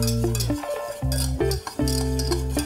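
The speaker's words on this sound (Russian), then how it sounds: "Муку надо обжарить в сливочном масле." Flour toasts in butter in a pan for a white sauce while a utensil stirs and scrapes against the metal, producing a soft sizzle under repeated clinking and scraping strokes.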